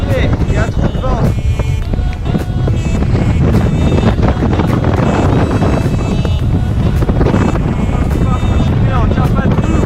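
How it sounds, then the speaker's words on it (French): Strong gusting wind on a mountain hike across the Chaîne des Puys volcanic range roars and buffets the microphone without a break, a loud, continuous rumble. "On va continuer, il y a trop de vent."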